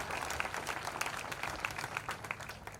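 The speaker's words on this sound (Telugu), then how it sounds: "ఒకసారి పేరెంట్స్ కోసం ఒకసారి నా క్లాప్స్ కొడితే వినాలని ఉంది" An orientation programme audience claps for parents at a motivational speaker's talk, a fairly quiet, continuous patter of many hands with scattered sharper claps throughout.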